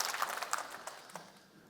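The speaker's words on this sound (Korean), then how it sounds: "박수로 우리 하나님께 영광을 드립니다" Church congregation applauding together, a dense wash of many hands clapping at moderate loudness that thins out and fades over a couple of seconds.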